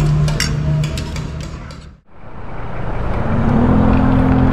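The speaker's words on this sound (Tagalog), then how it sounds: "Sobrang traffic." Heavy road traffic near the Lourdes Grotto in Benguet: a steady, loud rumble of idling and moving cars, trucks and buses. A brief gap in the middle is followed by a low engine drone that builds back up.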